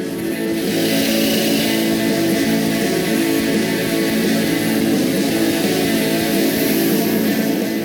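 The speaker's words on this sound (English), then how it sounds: "I'm going to take this chainsaw and I'm going to cut all the way down through there" Loud, steady chainsaw engine droning at high revs throughout, cutting continuously through the log wall of a cabin, with no talking.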